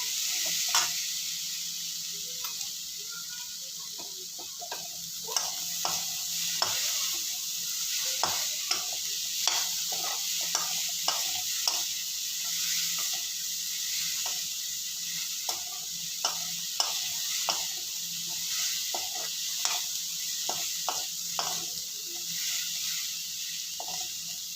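Peanut sundal sautéing in a pan, a continuous soft sizzle under a steady run of close spoon scrapes and taps, no voices.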